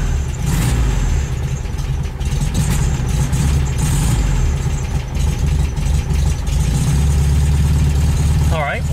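An air-cooled VW Beetle engine idles steadily just after starting, a continuous low rumble running loud and close throughout, with a brief higher mechanical rattle near the end.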